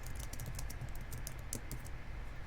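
Rapid typing on a computer keyboard, close and steady, with irregular clusters of key clicks running throughout and no voices.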